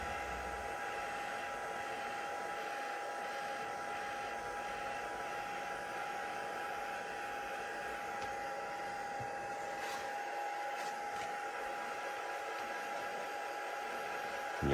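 A craft heat tool on its gentle setting blows across card stock, a steady, quiet airy whoosh with a faint whine, continuous and unbroken from start to finish.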